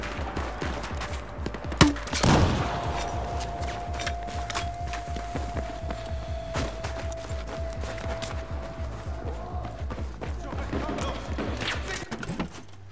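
Shotgun fire in the video game Battlefield 4, with one sharp, loud blast early on. Steady rhythmic footstep-like clicks and a held tone continue around it.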